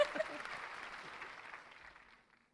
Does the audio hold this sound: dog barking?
no